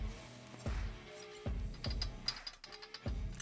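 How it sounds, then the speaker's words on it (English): A spanner ratchets on a Buell XB spark plug: three distinct clicking ratchet strokes, close and moderately loud, each separated by a short pause, with faint metallic clinks between and no talking. "I'm going to get a spanner on now."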